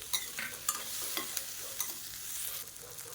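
Garlic cloves and curry leaves frying in a pan for chutney, a steady close sizzle with several sharp stirring scrapes and spatters across the whole stretch, no voices.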